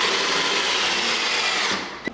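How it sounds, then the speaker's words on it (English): Power drill whirring steadily into a wooden table leg to drive in a screw for an office table, loud and close, then winding down with a short knock at the end. "We'll drill a hole at a 45-degree angle and put in a screw."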